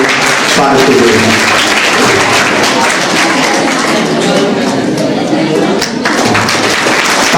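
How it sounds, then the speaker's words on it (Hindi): Audience at a school farewell party applauds to welcome an art teacher, loud sustained clapping from a crowd that continues throughout, with voices mixed in. "आप लोग ताली बजा करके स्वागत कीजिएगा"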